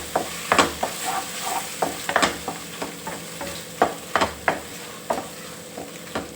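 Tomatoes and tamarind fry in a pan, a soft sizzle broken by repeated scraping and knocking stir strokes in an uneven rhythm, close by.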